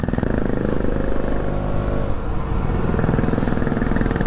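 A Bullet motorcycle on a short mountain ride to White Gumba throbs past close and loud, its deep engine thump steady for a few seconds.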